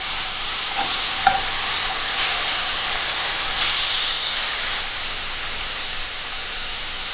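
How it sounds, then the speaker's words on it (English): Halloumi cheese slices sizzling in a hot pan, a steady, loud, close crackling hiss that carries on unbroken throughout, with one faint click near the start. "just place some halloumi slices into a hot pan until we get some nice brown colour on"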